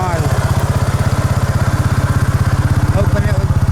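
A Honda Rancher ATV engine fitted with a new muffler runs close by with a fast, even put-put pulse and a mechanical clatter, while someone talks over it.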